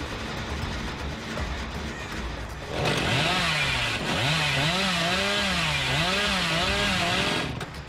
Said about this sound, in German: ich will sie wegholen mit der Säge.